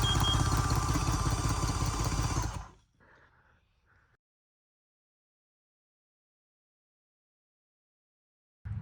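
Yamaha GP watercraft engine running loud and rough for a few seconds, then cutting off abruptly, followed by brief faint clatter, silence, and the engine catching again at the very end.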